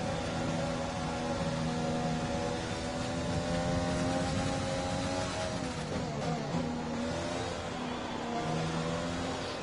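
A race car engine in a PS4 racing game, Russia round, revs hard on a full start: steady, loud layered engine harmonics that hold and shift slightly in pitch throughout, with no talk.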